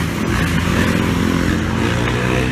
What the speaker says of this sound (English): Their motorcycles are loud as shit.